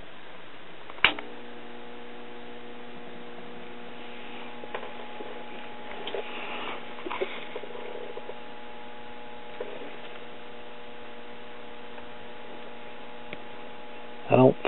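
A 1968 Philco-Ford AM tube radio switched on gives off a steady electrical hum with faint static throughout, opening and closing with a switch click.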